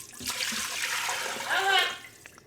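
Beef bouillon stock is poured from a container into an Instant Pot, a rushing, splashing liquid pour that swells near the end before tapering off, fairly quiet and close.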